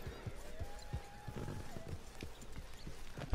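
Rhythmic hoof clip-clops from a horse in Red Dead Redemption 2, steady trotting beats under a low background hum with a faint tonal sound.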